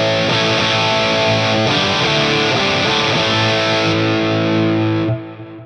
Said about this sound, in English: So if I need to add in my drive pedal,